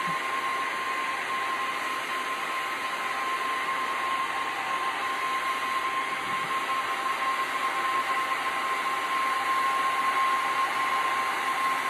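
A heat gun on its high setting at 300 degrees roars in a steady, continuous rush of air over resin for ocean-style coasters. The loud blowing stays close and unbroken, with no voices.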